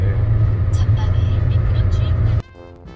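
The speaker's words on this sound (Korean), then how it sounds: "레보르기니로다가 속도가 난다고 오르막길에서 이게 엑셀 밟고 있는 거야." A Lamborghini accelerates uphill with a deep, steady engine rumble that drops away abruptly near the end, while people talk and laugh inside the car.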